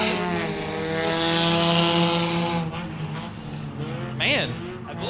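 Race cars pass on a track at a night racing event, their engines forming a sustained loud whine that swells and falls, with a sharp rising pass near the end while a commentator talks over it.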